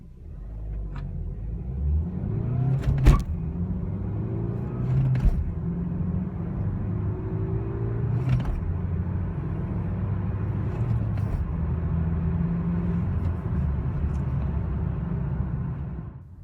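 A 2017 Chevrolet Cruze diesel with manual gearbox pulls away from a standing stop, its engine note rising through gears with audible shift breaks, heard from inside over a steady road rumble.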